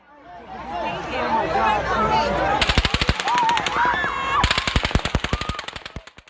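Automatic gunfire at the Las Vegas Route 91 shooting comes in two long rapid bursts of sharp, evenly spaced cracks, loud and distant-sounding, over a shouting, agitated crowd with voices throughout.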